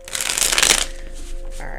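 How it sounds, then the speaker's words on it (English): A quick riffle of tarot cards being shuffled, a crisp burst of flapping that stops after under a second, followed by quiet room tone. "Let's shuffle up these majors."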